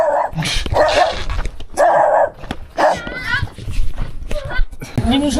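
A dog barks several times in short sharp bursts at a mountaintop stop high in rural China, mixed with people and children talking close by.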